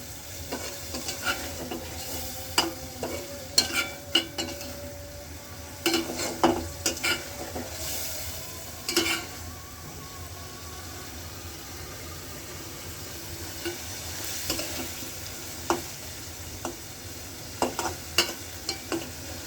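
Shrimp being braised and stir-fried in a pan, a steady low sizzle broken by scattered scraping and clinking stir strokes, close and moderately quiet, with no voices.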